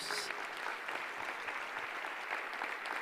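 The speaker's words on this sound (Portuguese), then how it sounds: "Vamos aplaudir essa jovem que está chegando aqui, irmãos." Church congregation applauding during a worship service, a steady dense wash of many hands clapping throughout, fairly close and even in loudness, with no clear speech over it.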